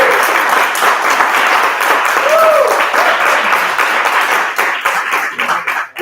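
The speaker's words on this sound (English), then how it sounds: "let's give a round of applause." Forensics showcase audience claps together to vote for a debate winner, a sustained, loud round of applause with a few shouts that thins out toward the end.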